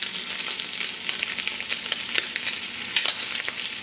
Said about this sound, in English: Nice and hot, no messing with them, and you should turn out with a perfectly seared scallop every single time